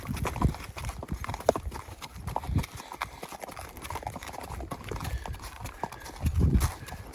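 Old horse Hank, freshly shod, walks with hooves clip-clopping in an irregular rhythm of close, distinct strikes, with occasional louder thuds and no talking.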